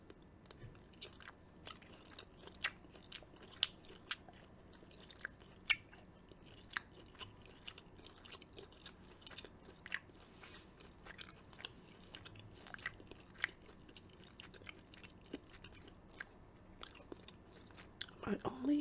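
Fried cashew chicken gets chewed close to the mic, with repeated crisp crunchy bites and wet mastication at an irregular pace, quiet between bites, and a few soft mouth sounds near the end.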